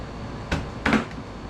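Two short knocks, a sharp tap and then a slightly longer thud, as the seat of a VEVOR rolling shop stool is struck upward by hand to raise its height, close and fairly quiet in a still room.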